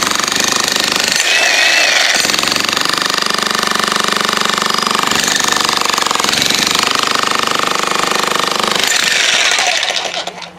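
An Xtreme Power electric jackhammer breaks a slab of concrete about five inches thick, a loud continuous close-up hammering roar with brief dips as the chisel shifts, then cutting off at the end.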